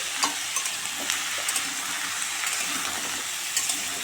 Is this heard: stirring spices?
yes